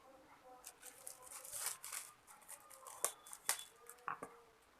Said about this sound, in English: Now I am going to unwrap this cover paper.